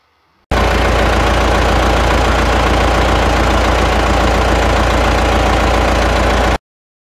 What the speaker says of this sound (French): Un camion.